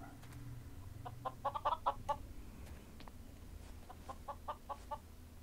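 Chickens in the Minecraft video game give quiet clucks in two short clusters of rapid, choppy calls, faint and alone over a soft background hum.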